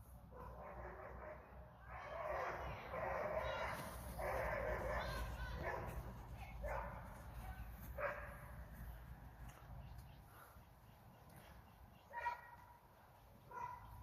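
A dog barks in repeated bursts of loud, yipping barks spread over several seconds on a rainy day outdoors near a bus, with a person speaking at times in between.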